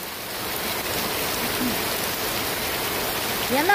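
Heavy rain pours steadily outside a house window, a dense, even hiss with no pauses, heard from indoors.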